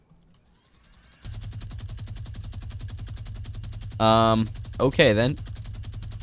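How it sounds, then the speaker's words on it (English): A rapid, steady stream of minigun fire in a shooter game, a dense rattling buzz that runs without pause from just after the start, with a player's voice breaking in briefly twice near the end. "epic minigun, just 16 damage per bullet, I guess. Fire rate of 12."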